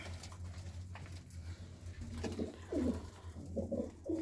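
Pigeons in a home loft, soft low cooing calls repeating in short bursts near the end, fairly faint over a quiet hum and light rustling.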